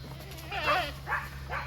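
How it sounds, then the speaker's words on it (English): Goats on a homestead bleating, three short wavering calls in quick succession at moderate volume over a steady low background hum. "We are bringing our bigger goat girls home."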